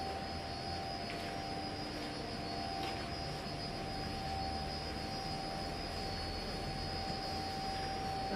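An inverter-driven motor and pump for a fountain run underground with a steady droning hum and a constant high-pitched electrical whine, continuous and fairly close, with no talking.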